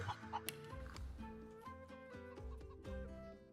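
Chickens cluck in a fantasy role-playing video game, several short bursts close by in quick irregular succession, fairly quiet and nearly alone.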